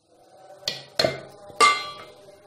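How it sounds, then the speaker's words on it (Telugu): Fried brinjal pieces dropped into a mixer jar, making three sharp clattering knocks about a second apart with a glassy ring and no talk. "తర్వాత వేయించి పెట్టుకున్న వంకాయ ముక్కల్ని తీసి మిక్సీ జార్లో వేయాలి"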